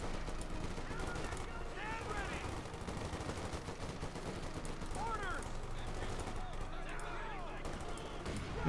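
Bursts of machine gun fire rattle from a Company of Heroes 2 battle, with fast repeated shots mixed into dense game noise, explosions and a commentator talking over the action throughout.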